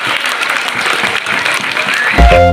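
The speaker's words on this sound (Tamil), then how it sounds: "அவங்களுக்கு உங்களுடைய நன்றியை கைத்தட்டல் மூலமாக கேள்விப்படுத்துங்க" Loud, dense clapping fills a school annual day gathering, the audience applauding the donors of new clothes for the girls. Music begins abruptly near the end.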